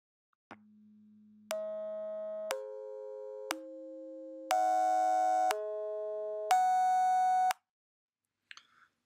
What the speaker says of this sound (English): a way to create sounds of protein using different techniques